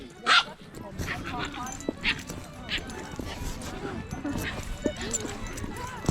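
A dog barks repeatedly at a busy local flea market in a small town, the yaps fairly close amid crowd chatter, children's voices and general outdoor bustle.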